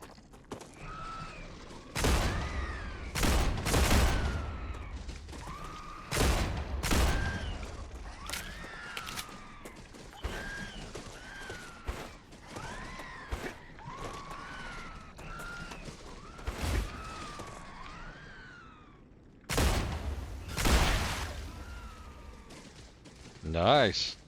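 Gunfire in the video game StarRupture, repeated sharp bursts of shots scattered through the stretch, fairly loud, with people talking over and between the firing.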